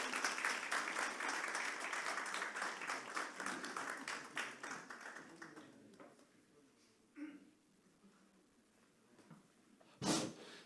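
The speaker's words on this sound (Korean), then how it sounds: "우리 축하 박수 하겠습니다." A church congregation claps in celebration of a family's first baby, a dense burst that fades away after several seconds, leaving a quiet room with a few scattered sounds and a sharp clap or bump near the end.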